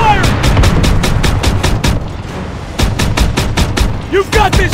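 Rapid bursts of rifle and machine-gun fire crack through a World War II battle in Call of Duty WWII, sharp repeated shots in quick rhythmic volleys, pausing briefly before resuming, with a short distant whistle or ricochet near the end.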